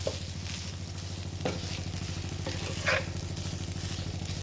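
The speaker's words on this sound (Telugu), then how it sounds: "ఇప్పుడు ఈ రైస్ వేసాక ఇప్పుడు కూడా బాగా కలుపుకోండి" White rice being stirred in a hot pan on a stove, giving a steady sizzle with occasional scraping spoon sounds over a constant low hum.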